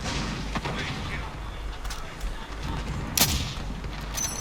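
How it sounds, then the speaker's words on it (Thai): Gunfire and booming explosions in Call of Duty Warzone roll on as a steady loud wash of battle, with one sharper crack near the end and talk running over it. "ยิงอะไรกันวะเนี่ย ผมนี่คิดว่าอยู่ในสงคราม"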